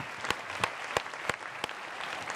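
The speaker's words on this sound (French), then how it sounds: "On l'applaudit." A small TV studio audience gives a brief, fairly faint round of applause, with a few sharper individual claps standing out over the steady patter.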